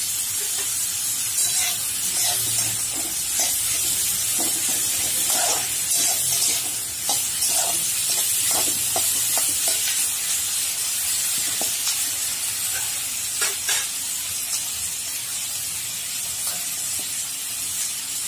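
Ginger sizzles and hisses in a hot pan during channa masala cooking, a steady frying hiss broken by scattered pops and crackles, heard alone without talk.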